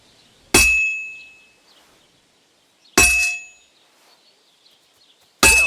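A blacksmith's hammer striking an anvil at a smithy in the video game Kingdom Come: Deliverance 2: three loud, evenly spaced metallic clangs, each ringing out and fading before the next.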